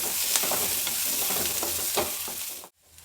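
Onions and broken dried Byadgi chillies fry in a pan for a Kerala-style moru curry. The sizzle is loud and close, with stirring crackles, and cuts off abruptly just before the end.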